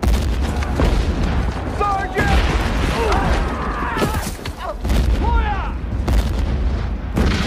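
A loud, rumbling landmine blast amid a marching German military column, with chaotic crackling and booming debris, mixed with shouting and screams of people, heavy and close throughout.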